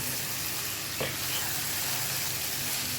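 Mixed vegetables frying in oil for a bhaji, a steady close hiss and sizzle with a brief stirring scrape near the start, no voices.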